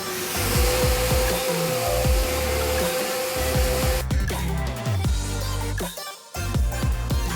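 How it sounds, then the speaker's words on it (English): An NA7 wet separator vacuum sucks up stainless steel powder through a connected hose, a loud steady motor roar with rough broadband suction noise and short gritty rattles as powder is drawn in, alone without talk. "we are going to vacuum stainless steel powder."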